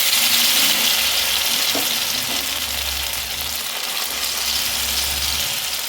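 Batter sizzles steadily in hot oil in a kadai over a black mustard seed tempering, with a dense, continuous frying hiss close by and a faint low rumble underneath.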